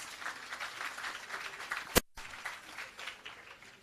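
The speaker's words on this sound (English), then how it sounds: "Please give them a round of applause." Scattered audience applause at an outdoor government commissioning ceremony for an irrigation system and agro park, soft and distant, with a brief dropout in the middle.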